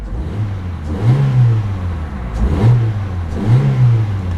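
A 2008 Saturn Astra's 1.8-liter twin cam four-cylinder revs up and down in three close, loud swells, each rise followed by a settling idle.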